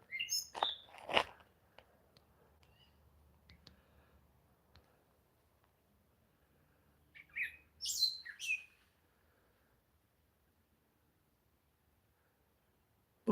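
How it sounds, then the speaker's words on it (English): Birds chirp in the woods, a few faint scattered tweets in short bursts near the start and again around the middle, separated by long near-silent gaps. "I hear birds."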